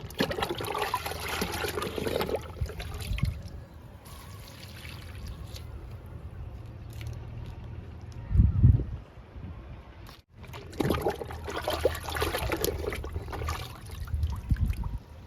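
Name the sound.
pouring liquid fertilizer onto a jasmine plant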